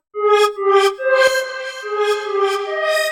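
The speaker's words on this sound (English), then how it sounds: "So we got a bit of echo." A hard melodic techno wavetable synth lead with echo added, a run of bright tonal notes whose repeats blur into a continuous sustained wash, loud and alone.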